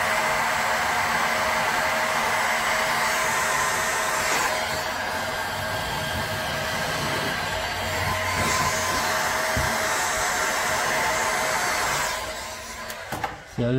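Steady, loud hot-air blower heating a plastic Frosty blowmold from both sides during repair, a continuous close whooshing roar that runs unbroken for over ten seconds before easing off near the end.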